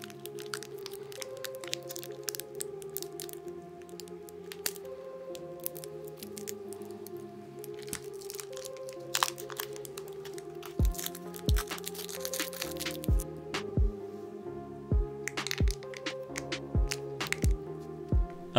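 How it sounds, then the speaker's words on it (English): Adhesive tape is pulled and wrapped around the piston of a Honda Africa Twin XRV 750 rear shock absorber, with crackly tearing and repeated sharp ticks building toward the end, over a steady musical bed. "just secure the piston with tape to avoid damaging the O-ring"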